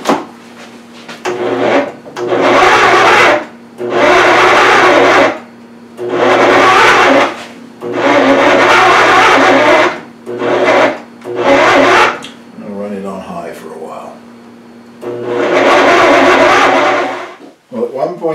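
A food processor churns rich, egg-laden brioche dough in loud, grinding motor bursts of a couple of seconds each, separated by short pauses, close up and harsh.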